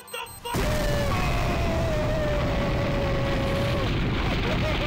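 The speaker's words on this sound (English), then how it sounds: "Explosion does not hit like it used to." An Explosion move in the Pokémon BDSP video game makes a sudden, loud synthetic boom that rolls into a sustained, rumbling blast with a thin whistling tone over it.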